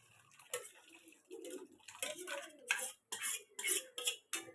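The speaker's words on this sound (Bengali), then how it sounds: "এবার ডালটা দিয়ে দিলাম।" Dry matar dal lentils poured into a cooking pot for a vegetarian dal with kalmi greens, giving a run of gritty, rattling bursts that grow louder toward the end, with light utensil clinks and no talking.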